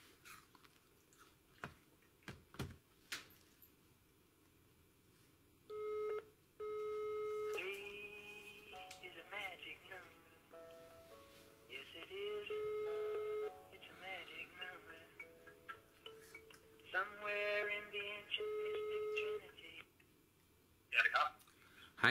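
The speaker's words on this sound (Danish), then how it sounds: "den her vil jeg lige prøve at se, om vi kan prøve at ringe op" A phone call is placed: faint dialing tones, then repeated bursts of the ringback tone with pauses between them, while someone talks quietly over the gaps and near the start.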